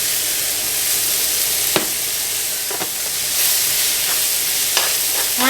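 Onions frying in a pan, broken up and stirred, give a loud continuous sizzle with occasional scraping strokes of a utensil, heard alone.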